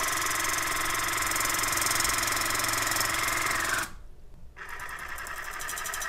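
A Mornwell 5032 oral irrigator water flosser runs with a steady, loud motor buzz and water spray. It cuts out briefly near the end, then resumes more strongly at a higher setting.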